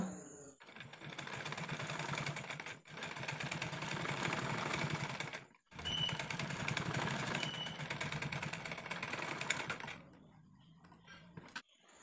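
A sewing machine stitches the neckline of a nighty, whirring in long continuous runs broken by short pauses, close and fairly loud, with no talking.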